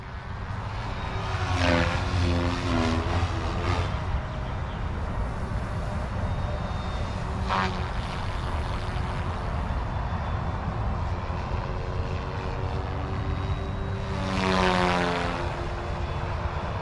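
An OMP Hobby M4 or Goosky RS4 Venom RC helicopter makes big, low forward passes, its rotor and motor whine droning steadily and rising with Doppler sweeps as it flies by, with no talking.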